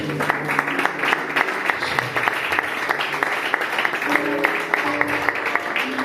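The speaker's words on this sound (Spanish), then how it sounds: "¿Cuánto le dan un aplauso a aquel que vive?" A church congregation claps together in sustained, dense applause across the whole stretch, a steady crowd roar of hands with no break.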